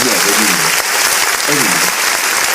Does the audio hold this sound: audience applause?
yes